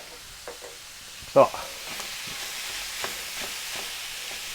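Ground meat and onions for cheeseburger cornbread sizzle quietly in a pan, with a soft spatula scrape standing out once, while a voice briefly speaks.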